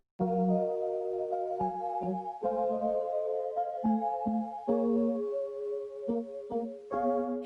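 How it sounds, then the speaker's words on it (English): A sparse, offbeat pattern of bright keyboard chords and low bass notes plays cleanly in stops and starts, giving a jumpy syncopated feel, in the intro of a song. "I love her use of syncopation, and it's prominently displayed in the intro"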